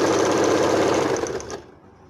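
A sewing machine runs a fast, steady stitching whir along the side seam of a salwar, then stops abruptly and leaves quiet room tone.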